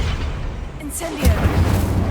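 An Incendio fire spell goes off in Hogwarts Legacy, a loud whooshing burst with a low boom and a crackling flame tail over steady game ambience.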